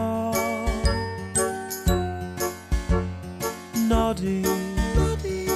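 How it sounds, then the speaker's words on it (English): A small tinkling bell in a cheerful children's cartoon jingle, Noddy's bell, rings in quick bright chimes over a bouncy musical theme with steady rhythm, prominent and close throughout. "his tinkling bell means he's the happiest little fellow in all Toyland."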